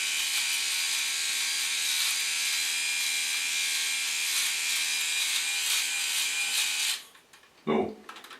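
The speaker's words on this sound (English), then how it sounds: "You can hear some cutting, some pulling too." A MicroTouch Switchblade electric trimmer runs close up with a loud, steady high buzz as it cuts hair, then stops abruptly near the end and leaves a short thud and quiet room noise.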